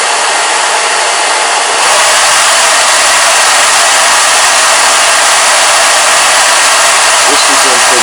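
A hair dryer running on its intermediate setting switches on after a short quiet moment, then blows with a loud, steady whooshing hum until the end.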